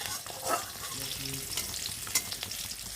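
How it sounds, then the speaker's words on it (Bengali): A simple vegetable curry sizzles in a frying pan while it is stirred, a steady close frying hiss with a few scraping stir sounds and no talking. "ঝটপট করার জন্য আমি এই সিম্পল তরকারিটা রান্না করছি"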